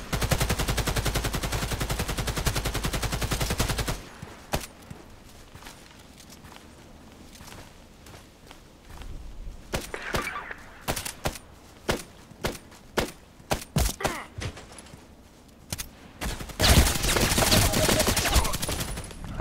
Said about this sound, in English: I think I was shooting him 5 or 6 times in his belly